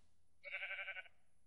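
A single Minecraft sheep bleat, a clear wavering baa lasting about half a second over near silence, with no voices.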